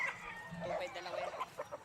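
Chickens at a market give short, clipped clucks in quick bursts, fairly close, over a busy background with faint voices.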